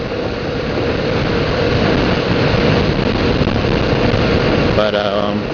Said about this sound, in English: That 649cc twin. It's a good engine.